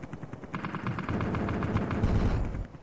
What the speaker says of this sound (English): By pressing the fire button we can launch a volley of bullets into those tanks